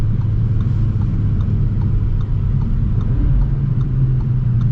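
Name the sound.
2023 Audi RS3 engine in RS performance mode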